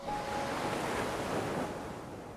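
Ocean waves in an anime, a steady full roar of surf with a windy wash, continuous and loud throughout, no voices.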